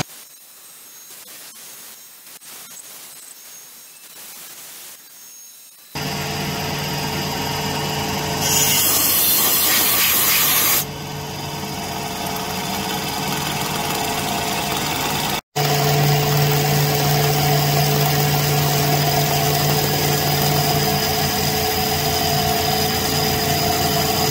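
A machine cuts a brass tub drain adapter, starting with a quieter whir and then turning to a loud, steady machining drone with a high-pitched stretch partway through and a brief gap near the middle.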